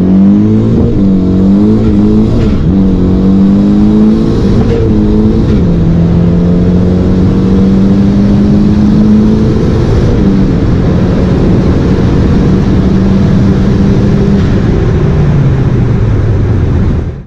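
A turbocharged Honda Civic with a stock D16 engine pulls hard through the gears, its loud exhaust drone climbing steadily in pitch, dipping briefly at each shift, then rising again in a sustained close-up run.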